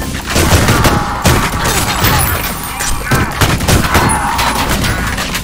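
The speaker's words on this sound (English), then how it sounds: "Oh, is that a shotgun?" A shotgun in the retro first-person shooter Ion Fury fires repeatedly, loud close blasts and booming reports following one another in quick irregular bursts amid other gunfire.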